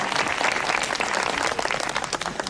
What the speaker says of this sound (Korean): 이때 박수 한번 쳐주시면 좋겠습니다.